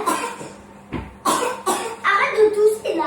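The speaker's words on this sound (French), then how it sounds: "Arrête de tousser là." A child coughs repeatedly, several short hacking bursts in a row at close range, with a little talk mixed in.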